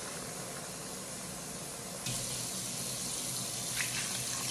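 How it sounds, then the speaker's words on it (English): Water poured from a cup into a pan while braising beef rolls, a soft hiss that jumps to a fuller, steady gushing pour partway through, close and fairly quiet. "I'm going to go ahead and just add the water as 1 cup"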